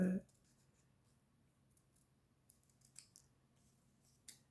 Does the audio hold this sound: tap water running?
no